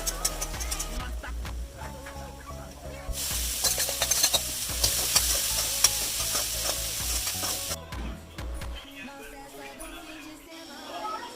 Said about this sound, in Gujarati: ટામેટા અને ડુંગળી, ધાણા મરચાંનો વઘાર કરી અને ચણા વઘાર્યા.